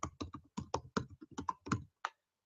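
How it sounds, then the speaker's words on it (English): Typing on a computer keyboard to enter a web address, a close run of quick uneven key taps with short pauses between bursts, ending in one last separate tap. "you might type your web address"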